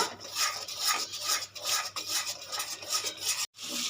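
Spice paste stir-fried in a pan for niramish dahi patal, a vegetarian curry of pointed gourd in yogurt: a spoon scrapes and rubs the paste in repeated strokes, sizzling softly with a brief pause near the end.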